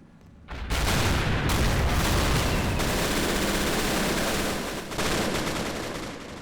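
A large Men of War battle with the RobZ Realism Mod, mortars firing and infantry charging: dense, continuous gunfire and booming blasts fill the scene loudly, with a brief dip near the end before the barrage resumes.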